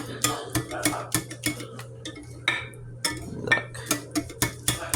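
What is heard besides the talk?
stirring vanilla lemon cake batter from box mix in a bowl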